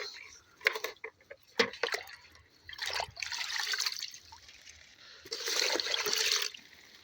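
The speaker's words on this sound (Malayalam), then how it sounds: "ഇപ്പോൾ കുരുമുളക് തൈക്കൂടെ ഒഴിക്കുകയാണ്." A mixture of pseudomonas and neem oil is poured onto a pepper plant in bursts of splashing liquid and trickling, with a voice talking in between.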